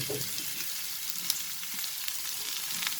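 Capsicum, corn and cabbage sautéing for chicken fried rice: a close, steady crackling sizzle with a few light clicks of stirring, no voices.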